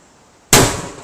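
A homemade bowling ball mortar fires with one sudden, very loud blast that rings out and decays over about half a second, following near silence.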